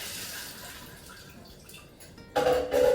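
Water soaking two cups of cashews is strained off and discarded, starting as a soft, faint trickle before a louder splashing pour in the last half-second, heard alone without speech.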